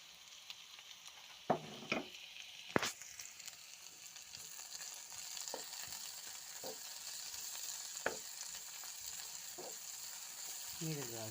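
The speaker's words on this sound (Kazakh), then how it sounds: "Мен мына жерде тәтті бұрышпен жуа қуыруды жөн көріп, екеуін қуырып жатырмын." Sweet bell pepper and onion fry together in hot oil, a constant crackling sizzle broken by several sharp utensil scrapes and clinks against the pan.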